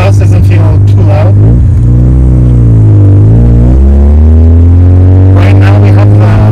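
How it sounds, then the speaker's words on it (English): Modified Mazda RX-7 FB rotary engine and exhaust droning steadily and loudly from inside the cabin while driving with the glass roof removed, the pitch dipping and rising through gear changes and acceleration. "Even the exhaust doesn't feel too loud."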